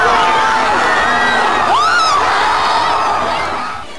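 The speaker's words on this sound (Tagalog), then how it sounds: "Kasabay ng pagkapanalo ng Archers ang walang humpay na hiyawan ng mga taga-Lasal sa Taft Avenue." Crowds of DLSU Green Archers fans on Taft Avenue cheer after a UAAP basketball finals win over UST: loud, continuous shouting, whoops and screams with rising yells, fading slightly at the end.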